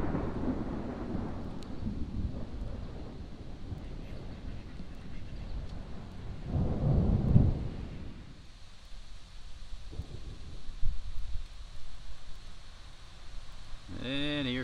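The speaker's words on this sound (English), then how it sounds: "And here comes the rain." Thunder rumbles over a pond while a storm rolls in and rain begins, with ducks quacking nearby and a person talking; a heavy rumble midway gives way to the hiss of falling rain.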